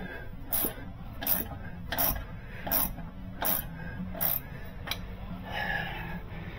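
A ratchet is tightening a suspension bolt on a Suzuki Carry kei truck. It gives a series of about seven sharp, evenly spaced clicking bursts, close and clear over a low background hum.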